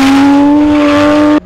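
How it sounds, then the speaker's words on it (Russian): A drift car's engine screams at very high RPM at a drift event in Volgograd, loud and close as a steady sustained howl that cuts off abruptly near the end. "Запредельные обороты двигателя и головокружительные заносы – все это синонимы дрифта."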